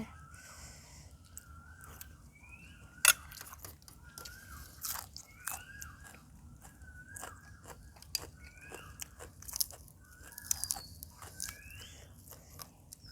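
Soft, close chewing of Thai papaya salad with large chicken feet and tomato, wet bites over a low background hum, with distant birdsong chirping throughout.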